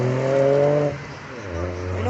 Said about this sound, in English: And the Civic revving in the distance.